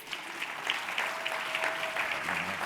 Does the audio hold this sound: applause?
yes